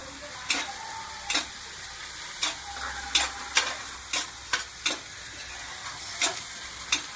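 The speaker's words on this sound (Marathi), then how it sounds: "मसाला व्यवस्थित भाजून घेऊया थोडा" Ground masala spice paste roasting in a pan, a low frying hiss punctuated by a regular series of sharp spatula taps and scrapes against the pan, close and evenly paced, no talking.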